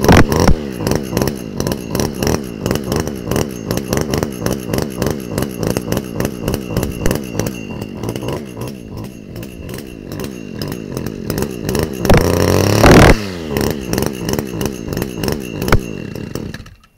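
An Echo SRM250SI brushcutter, already warm, sputters to life and revs loud and close in rapid pulsing bursts of throttle, a harsh two-stroke buzz rising and falling, with a brief louder roar near the end.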